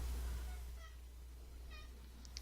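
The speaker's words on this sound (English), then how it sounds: "My cat is meowing right now." A pet cat meows twice in a quiet indoor room, with short, faint calls spaced about a second apart against a low steady hum.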